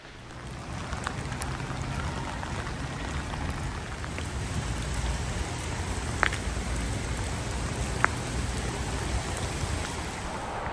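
Steady rain falls on a wet day near the coast, a constant dense hiss with a few sharper drops standing out, moderately loud and without speech.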